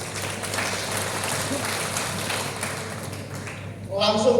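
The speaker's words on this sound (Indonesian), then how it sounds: "tepuk tangan untuk Pak Jokowi" Applause fills a university hall during a political speech, a steady, moderately loud patter of clapping, with a voice speaking over it and the sound swelling near the end.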